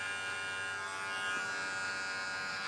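An electric hair clipper buzzes steadily at a barbershop during a haircut. The hum is even and moderately close and goes on without a break, and no voices come through.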